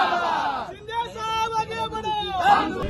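Party workers celebrate in a crowd in Thane, a dense babble of many voices with high rising shouts and cheers at the start and the end.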